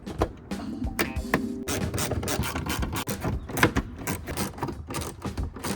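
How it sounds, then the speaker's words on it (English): Plastic fasteners clicked and pushed back into a Ford F150 headlight housing, with close, irregular snaps, clacks and rubbing handling noises scattered throughout. "all we have to do now is reinstall all 6 fasteners"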